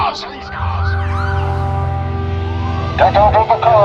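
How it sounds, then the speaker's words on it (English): A siren from a fleet of police cars wails loud and close, its pitch sweeping over a heavy low drone, with more abrupt sounds near the end. "Sobadoom was intercepted by a fleet of local police cars."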